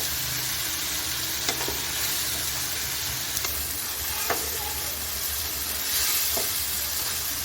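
Ingredients frying in ghee for baingan bharta give a steady, close sizzle for the whole stretch, broken by a few faint clicks of stirring. No one speaks.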